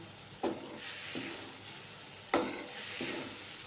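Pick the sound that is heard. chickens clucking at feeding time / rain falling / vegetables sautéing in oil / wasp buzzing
vegetables sautéing in oil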